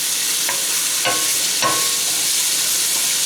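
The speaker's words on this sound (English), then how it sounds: "Just want to sweat them up in olive oil." Vegetables sweating in olive oil with thyme in a pot for a split pea and squash soup, a steady close sizzle broken by a few brief stirring scrapes.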